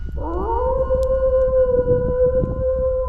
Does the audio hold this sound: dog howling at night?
yes